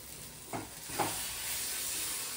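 Filling for koraishutir kachuri frying in a little oil in a kadai, giving a soft steady sizzle with two brief stirring scrapes near the start.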